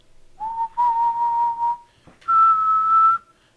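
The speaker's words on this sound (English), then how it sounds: "And if I was able to whistle" A person whistles into a radio microphone: three sustained, steady tones, the first two close together and slightly rising, then a pause and a higher, longer note, clear and close with no talk.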